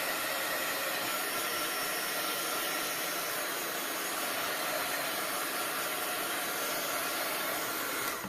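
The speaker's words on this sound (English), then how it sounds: "Actually, let me dry my page a little bit more with my heat tool here." A heat tool blows steadily close by as it dries an art journal page coloured with distress inks, a loud, even whooshing hiss that runs unbroken throughout.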